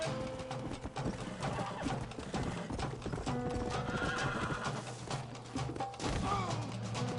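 Horses clip-clop steadily and whinny amid a busy, dense mix of thuds and crashes in the video game Red Dead Redemption, with hooves near and loud throughout.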